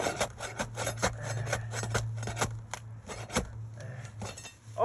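A flat tool slides under old roof shingles and catches on leftover nails and flanges. It makes a dense, gritty scraping with repeated sharp metallic clicks over a steady low hum, all close and with no voices.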